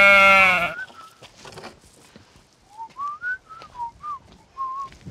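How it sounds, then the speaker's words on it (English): Sheep bleat on a farm during herding work: a loud wavering bleat up front, then a run of short, pitched, wavering calls in an uneven rhythm, fairly close. "I'm about to herd some sheep out here"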